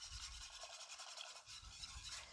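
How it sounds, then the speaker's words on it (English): A whisk stirs milk into a cheese sauce in a pot on the stove for macaroni and cheese, a faint continuous scraping and swishing with a quick even rhythm close by and no voices. "And then we're going to add 3 cups of milk. And we're going to whisk the entire time."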